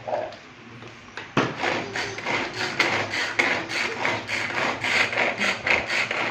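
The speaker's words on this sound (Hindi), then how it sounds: "और मैं इसे इस तरह से ग्राइंड करने लगी" Coriander, green chilies and raw mango are ground into chutney with rhythmic scraping and knocking strokes, close and steady after an opening thump, with no voice over the grinding.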